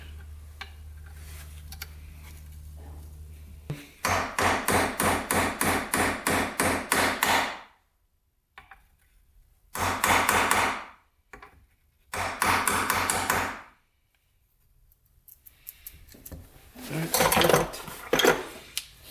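Repeated metallic hammer strikes drive a new seal and bearings into the hub of a special edition quad, coming in close, loud bursts of rapid evenly spaced blows separated by pauses.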